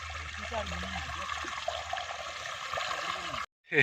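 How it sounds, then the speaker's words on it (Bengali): A small child splashing and playing in irrigation water in a rice paddy, trickling and sloshing water close by with voices talking over it, cut off briefly near the end. "সে জলের সঙ্গে মস্তি করছে"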